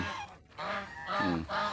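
A goose on a rural farm honks two or three times in a row, loud and close, with short gaps of quieter background between the nasal calls and no talk.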